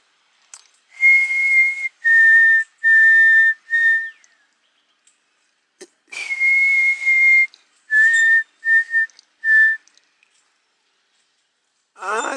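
A person whistles clear, steady notes imitating a song sparrow, in two phrases of four or five notes separated by a pause.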